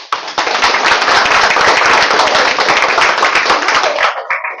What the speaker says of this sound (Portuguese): Então, está aqui mais uma salva de palmas para elas.